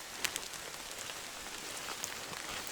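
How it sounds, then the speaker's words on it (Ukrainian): Light rain falls in a Carpathian forest as a soft, steady patter of drops on leaves, with a few sharper close drips, faint and alone. "І почався дощик."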